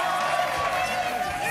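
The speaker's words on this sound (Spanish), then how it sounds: "¡Fuerte el aplauso!" A studio audience at a Spanish-language variety show applauds and cheers, a steady wash of clapping and crowd noise held at even loudness across the short moment.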